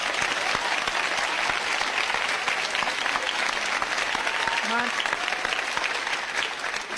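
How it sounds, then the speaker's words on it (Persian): Studio audience applauding on a Persian television comedy show, dense sustained clapping throughout at steady volume, with a voice speaking briefly underneath. "حالا خودتون رو تشویق کنیم"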